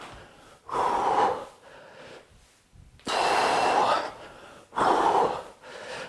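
Heavy rhythmic breathing during a full-body squat and knee-strike workout, with three loud bursts of forceful exhalation separated by quieter panting, close up and with no talking.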